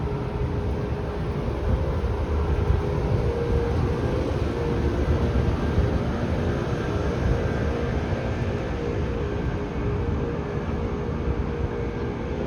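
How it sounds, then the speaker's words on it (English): A train passing along the tracks toward Union Station in downtown Toronto, heard as a steady, broad rumble and rushing roar that holds even and fairly loud throughout, with no voices. "the train's going to Union Station right over here"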